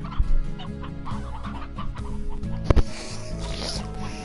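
Chickens cluck and chatter in Slime Rancher, a busy run of short clucks and squawks close by, with a sharp thump partway through and a steady game backdrop underneath.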